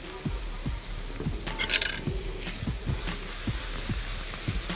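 Artichokes with onion and garlic frying in a pan, seasoned with salt and black pepper: a steady sizzle broken by regular scraping stirs, close and alone with no talk.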